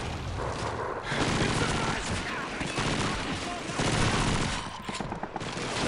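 Sustained machine gun fire with heavy bursts and booms from a World War II shooter, Call of Duty 2, rattling loudly and continuously with short lulls, layered with battle din.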